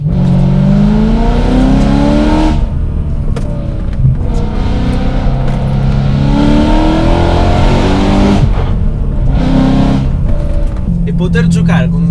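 A BMW M3 E92 with a naturally aspirated V8 and manual gearbox revs hard and loud from inside the car, rising through the gears with sweeping climbs broken by brief gaps at shifts, while someone talks over it.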